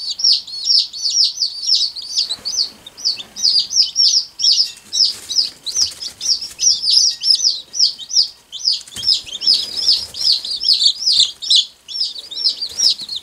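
Tiny bantam baby chicks peep in a dense, rapid stream of high, shrill chirps, several birds overlapping near and loud with brief pauses.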